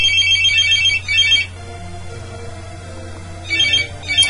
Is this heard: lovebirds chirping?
no